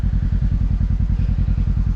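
A snowmobile engine labours in deep, sticky snow on a climb toward an Alberta fire lookout, a loud, close, rapid pulsing drone that holds steady throughout.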